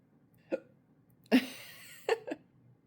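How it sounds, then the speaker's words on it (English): Hiccups from a person at home after dinner: a small hiccup, then a louder breathy one, followed by a quick double hiccup, close and fairly quiet with no talking. "I got hiccups."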